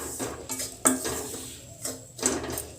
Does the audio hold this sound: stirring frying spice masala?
yes